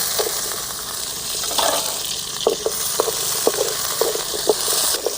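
Small onions and about thirty garlic cloves fry in a pan for a tamarind curry, giving a loud, steady sizzle with regular stirring taps and scrapes of a spoon, up close and without talk.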